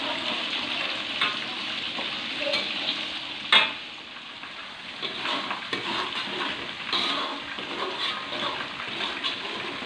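Spices sautéing in a pan for quail sambal kecap, a steady sizzling fry with light stirring scrapes throughout and one sharper clatter partway through.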